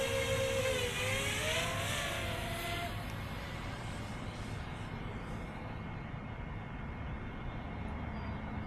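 A Heewing VTOL RC plane flies in airplane mode, its steady motor whir and propeller drone running under a rising and falling engine-like tone, fairly close with no talking.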